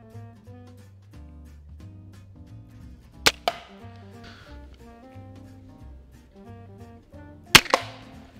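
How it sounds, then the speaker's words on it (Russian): A Doom Mini crossbow pistol fires with 120- and 200-pound draw limbs: two sharp snapping shots, each followed closely by a quick impact, over quiet background music. "сегодня в видео мы будем стрелять с арбалетом в силу натяжения 120 фунтов"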